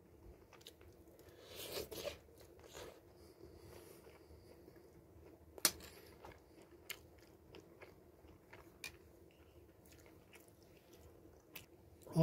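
Close-up mukbang eating of food made with Sempio spicy seasoning: soft, wet chewing and occasional sharp bites and crunches, quiet and intimate, with no talking.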